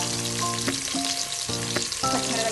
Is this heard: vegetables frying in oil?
yes